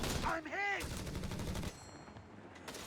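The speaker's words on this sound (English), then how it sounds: "Flanking this heavy machine gun" A heavy machine gun fires in the strategy game Company of Heroes 3, a rapid, continuous rattle of close, loud shots running nearly the whole time, with a brief rising and falling tonal swoop near the start.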